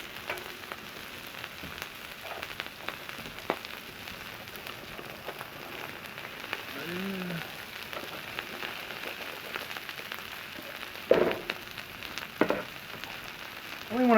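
Peppers and onions fry on a hot Blackstone griddle with a soft, steady, rain-like sizzle throughout, broken by a few faint scrapes and clicks close by.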